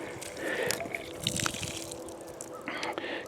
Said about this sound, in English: I'm draining out the water that's in these pipes